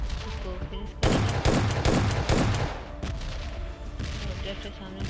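Rapid bursts of gunfire rattle through a battle royale video game firefight, loud and dense for a couple of seconds, then a few scattered single shots.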